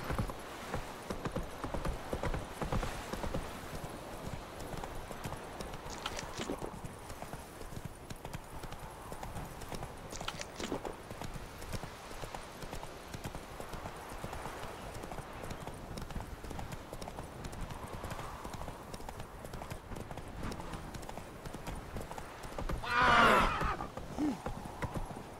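Roach, the horse in The Witcher 3: Wild Hunt, gallops with steady, rhythmic hoofbeats throughout, joined briefly by a whinny near the end, set over a continuous game ambience.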